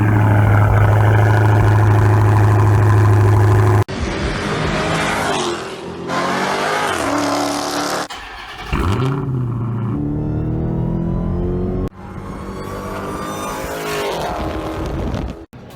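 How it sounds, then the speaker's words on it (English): A Dodge Challenger Hellcat with an MBPR exhaust fires up from cold, a loud booming start followed by a high idle and repeated sharp revs and blips, heard up close with brief drops in between. "This is it. Cold start, baby. She's pretty loud."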